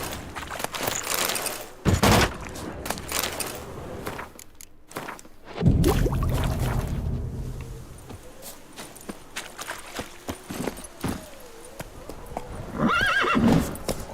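A horse in The Witcher 3 video game whinnies loudly several times, with sharp clip-clop hoof strikes and some gunfire-like bangs scattered between the calls.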